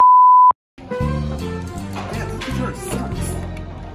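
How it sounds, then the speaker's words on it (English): A robot sound effect: a short electronic beep, then a pause and a warbling, buzzy synthetic voice-like drone that fills the rest of the moment. "This is the sound of a robot."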